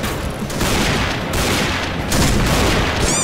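Dense, loud gunfire and booming shots fill a Point Blank video game match, with a PSG1 sniper rifle among the weapons, firing continuously and close with no talking.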